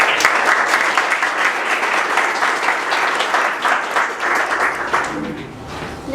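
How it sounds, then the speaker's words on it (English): Sustained audience applause at an honor society induction for its first members, dense even clapping from a large crowd that tapers slightly toward the end. "Please join me in a round of applause for the very first members of the Triumph Honor Society."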